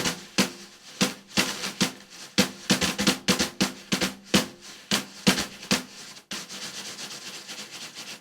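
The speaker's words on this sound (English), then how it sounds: "it's sensitive enough that I can actually use real brushes." Real wire brushes on a Korg Wavedrum snare pad, giving swishing, sweeping strokes with crisp accented taps in a steady groove, close and unaccompanied by talk.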